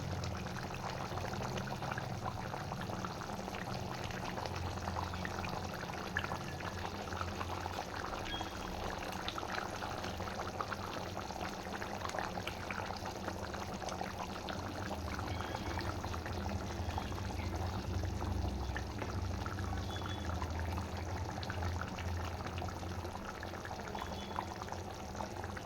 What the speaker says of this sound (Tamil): குழம்பு நல்லா சூப்பராக வந்து கொதித்து வந்துட்டு இருக்குது